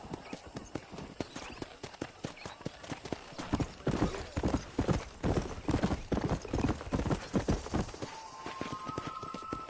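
A ridden horse gallops in a video game, a fast steady clip-clop of hooves that builds in loudness and pace, with a brief whinny near the end.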